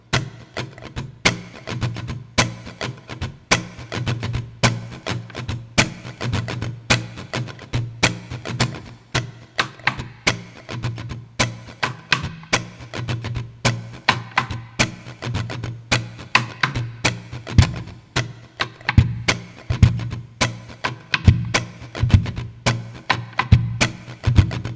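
Looped guitar and bass parts of a song layered on a loop pedal, a steady rhythmic pattern of plucked notes and percussive strums repeating throughout at moderate volume, with no voices.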